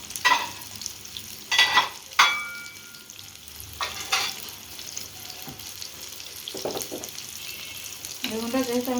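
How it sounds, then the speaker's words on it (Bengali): Eggplant pieces fry lightly in a pan for a Bangladeshi curry, with a soft sizzle under several distinct scraping and stirring strokes and a brief run of water near the end. "বেগুনটা যেহেতু আমি বেশি ভাজবো না, হালকা ভেজে নেব।"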